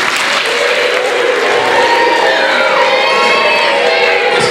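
Children at a children's literature gathering clap and shout loudly after a poem recitation, a dense, sustained burst of applause mixed with high excited cheers filling the hall.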